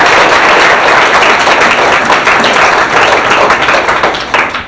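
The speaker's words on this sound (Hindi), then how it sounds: "ये लड़की के लिए तालियां मारेगी।" Audience at a spot-prize program in Bhainsa clapping for a girl, a dense, loud, continuous burst of applause from many hands that holds steady throughout.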